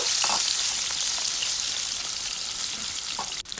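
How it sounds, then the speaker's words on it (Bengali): Pieces of kalibaus fish frying in hot soybean oil in a kadai, a loud continuous close sizzle with occasional pops and spatters. "গরম তেলে মাছগুলোকে ভেজে নেব।"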